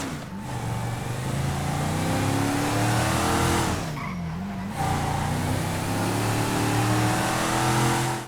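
A car engine in Grand Theft Auto V roars loudly and continuously, revving up and down with a brief dip midway, tires hissing; the engine volume is glitched louder than normal.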